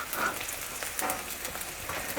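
Peanuts frying in oil in a pan for Maharashtrian poha give a steady crackling sizzle with scattered sharp pops, close and fairly quiet, with no talking.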